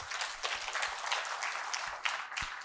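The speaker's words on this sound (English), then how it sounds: "Please clap." Audience applause at a talk on India's economic rise, a steady dense patter of clapping at moderate distance, continuous and fairly faint throughout with no other sounds standing out.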